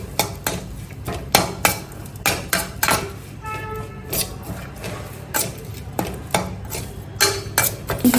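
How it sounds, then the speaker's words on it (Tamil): Ginger garlic paste is being sautéed in a pan for a wedding-style potato dish, with a metal spoon repeatedly scraping and knocking against the cookware in uneven rhythmic clanks, close and fairly loud, with no voices. "இஞ்சி பூண்டு பேஸ்ட் போட்டு வதக்கிட்டு"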